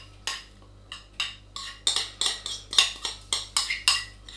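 Mature cheddar being stirred into a lamb and macaroni bake, a run of about a dozen sharp spoon-on-dish scrapes and clinks in an uneven rhythm, close and clear with no talking.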